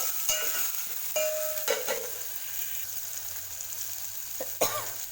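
Capsicum, tomato and other vegetables sizzling steadily in a pan, a continuous close fry hiss with occasional clinks and stirring scrapes of a utensil.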